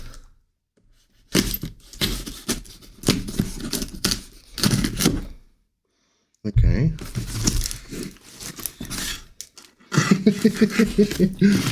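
A package wrapped in paper and plastic is torn open and unwrapped, giving loud, close crinkling and rustling in bursts with a brief pause between. Someone talks over parts of it.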